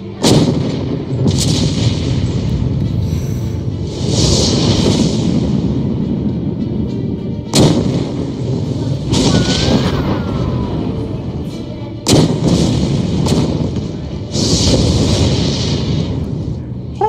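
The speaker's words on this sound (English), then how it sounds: "I'm gonna blast huge holes through the bottom of that boat with this giant cannon" A giant cannon fires repeatedly at the bottom of a boat, a series of loud, deep booming blasts spaced a few seconds apart, each followed by rumbling debris and echoing noise.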